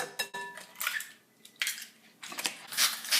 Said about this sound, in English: going to crack the egg in there